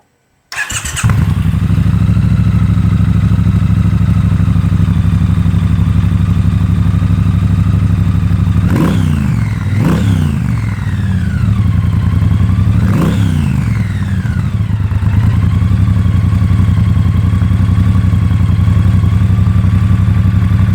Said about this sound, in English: The only real downside to it is it's quiet. It has a very quiet exhaust.